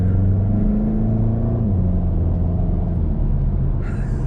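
A Volkswagen MK7 GTI's engine drones steadily from inside the car while driving, a low, even rumble with a slight shift in pitch partway through.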